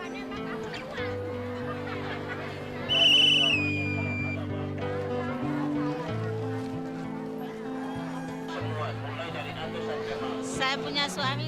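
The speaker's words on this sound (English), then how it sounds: "a whistle marks the start of the bartering" One shrill, slightly falling whistle blast sounds for about a second at a crowded barter market in Lamalera, Indonesia, over loud crowd chatter and a steady droning tonal background.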